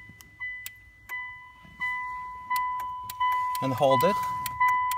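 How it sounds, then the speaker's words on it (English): A car's Autostart Prostart remote start system being programmed sends out a series of short, regular electronic beeps or clicks, steady and fairly close, while a person speaks briefly over them. "you can hear the blinking from the system"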